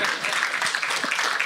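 Audience applause at a political forum held at a party headquarters garden, a steady, dense wash of clapping filling the short stretch, fairly even in level with no clear gaps.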